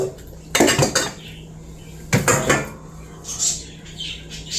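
Dishes, pots and cutlery clatter in a home kitchen during banana and kiwi bread baking, two loud bursts of clinking followed by a softer third, with no talking.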